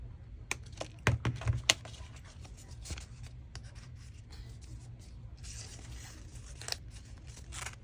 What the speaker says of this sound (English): All right, then we can cut this off.